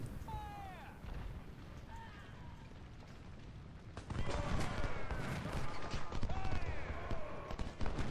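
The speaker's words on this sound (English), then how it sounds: "I should be able to get a nice shot on his artillery." Booming artillery and gunfire in the Civil War strategy game Ultimate General: Civil War, a dense barrage that grows louder and busier partway through, with whistling shell sounds over a constant battle rumble.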